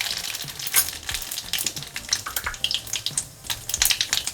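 Cumin seeds fry in hot oil alongside mustard seeds for a tikhat mithacha sanja, making a steady close sizzle peppered with sharp pops and crackles, moderately loud with no voices.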